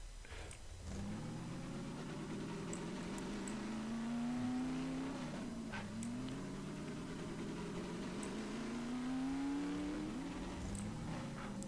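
A car engine in the video game TeleportVille hums steadily and rises in pitch through repeated gear shifts, with no one talking over it.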